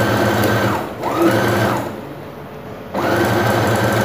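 Sewing machine stitching a hand-style hem on a blouse, running in three steady bursts of rapid mechanical stitching with short pauses between, close and clear with no talking.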